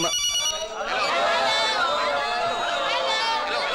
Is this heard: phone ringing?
yes